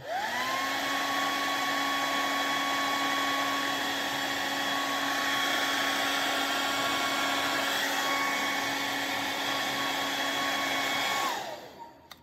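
A hair dryer blows steadily on a weathered, rusty decal on a 1955 Chevy scale model car, a loud, continuous whine that holds at constant pitch for about eleven seconds before switching off and spinning down.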